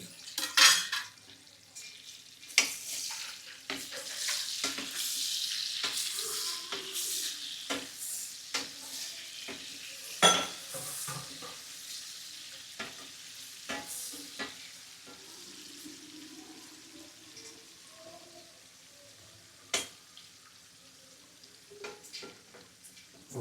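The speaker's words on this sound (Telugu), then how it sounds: "ఇప్పుడు ఇందులో ఆనియన్స్ వేస్తున్నాను మంచి ఫ్రై అవ్వాలి ఇది" Onions fry in a pan with a continuous close sizzle, punctuated by repeated sharp clinks and scrapes of a spoon stirring against the metal, louder early on and easing toward the end.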